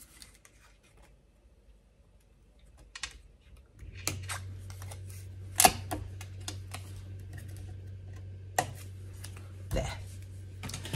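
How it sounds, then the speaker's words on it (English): A handful of sharp, irregular snips of scissors cutting through paper, close by, over a low steady hum. "I can just clip out where it hasn't quite gone through with my scissors"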